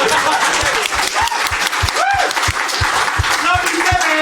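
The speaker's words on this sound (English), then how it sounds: "Debbie, stand up, take a round of applause." Loud crowd applause at a security conference session, with cheers and shouted voices over a steady, evenly spaced low thumping underneath the clapping.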